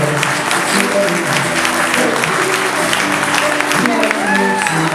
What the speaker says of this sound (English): Big round of applause for our newly married couple